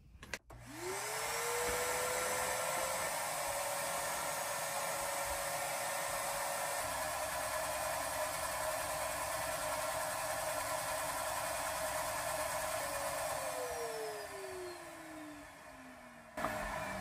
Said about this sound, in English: So I'm gonna go ahead and vacuum this up.